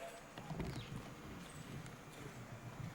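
A horse canters across an indoor riding arena, its hoofbeats thudding in a steady rolling rhythm over a constant muffled background.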